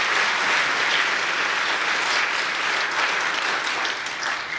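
A church congregation applauds during a homily, giving steady, dense clapping at an even level for several seconds and easing off slightly at the end, with no talking over it.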